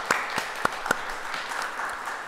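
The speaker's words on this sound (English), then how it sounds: "Let's give a short round of applause for our guests." Conference audience giving a short round of applause to panel guests at a game development event, a steady patter of many hands with a few sharper individual claps, moderately quiet and brief.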